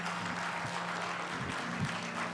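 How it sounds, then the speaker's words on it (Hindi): An audience at a televised stage event gives a steady, fairly faint wash of applause, continuous for a couple of seconds, welcoming a guest performer on stage. "उनके लिए तालियों के साथ स्वागत करें"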